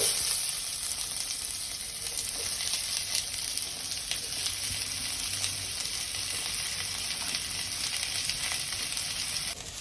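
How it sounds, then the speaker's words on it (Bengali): Sliced onions sizzle steadily in a hot wok, frying to light brown for biryani, a continuous crackling hiss with occasional stirring scrapes, close and fairly loud, no voices. "আমি কড়াইয়ের মধ্যে বেরেস্তাটা রেডি করে নেব"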